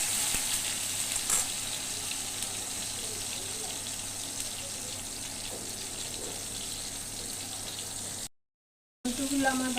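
Tomatoes frying in oil with cumin in a home kitchen, a steady hissing sizzle running throughout with faint scraping bits, briefly cutting out near the end before resuming.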